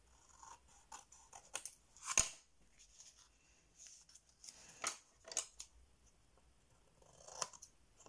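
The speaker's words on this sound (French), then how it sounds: "on va couper les coins." Scissors snipping the corners of a scrapbook album cover, a series of small, close, crisp cuts and rustles spread across the stretch, one sharp snip standing out, with no speech.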